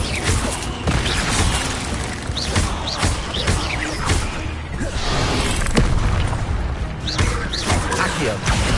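An Incendio fire spell blasts in a wizard simulation video game, with loud repeated booms and thuds over a continuous roaring rumble and no clear pauses.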